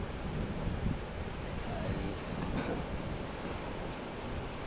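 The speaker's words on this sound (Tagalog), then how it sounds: "Hindi makalaot at malakas ang hangin." Steady, strong wind roaring across open sea after a typhoon, with broadband rushing noise and faint surf underneath, continuous throughout.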